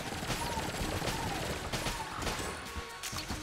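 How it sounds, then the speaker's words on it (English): Rapid video game gunfire and impacts from Enter the Gungeon, dense overlapping shots and crashes, loud and continuous over a steady game backdrop. "oh, you have a gun? Start shooting it."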